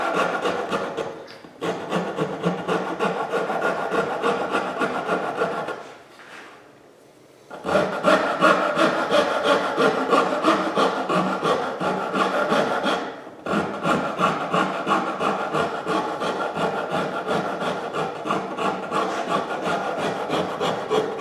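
Steel rasp filing down the wooden neck of a 335-style guitar kit, a steady rhythmic scraping of close strokes that pauses briefly twice, with no talking.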